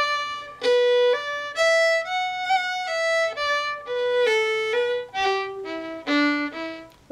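A single fiddle bows the second phrase of the Irish air Sally Gardens, a close, clear run of connected sustained notes that climbs and then steps back down, played unaccompanied.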